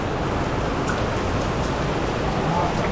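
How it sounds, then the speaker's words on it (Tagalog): Heavy rain pouring steadily during a house renovation in Cagayan de Oro, Philippines: a dense, even hiss of rainfall at moderate volume, unbroken for about three seconds. "ang lakas ng ulan"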